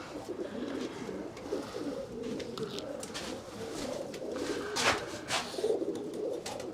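Racing pigeons coo continuously in a loft, soft overlapping throaty calls with a few rustles and flaps, close and steady throughout.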